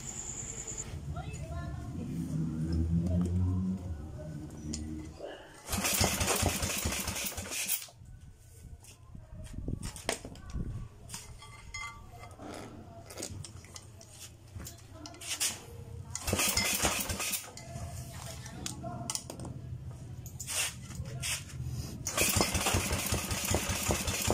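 A Briggs & Stratton small engine, freshly fitted with a converted and reconditioned carburetor, fires up and runs in bursts of loud, rough running between quieter stretches where it idles or stops, with voices talking over parts of it.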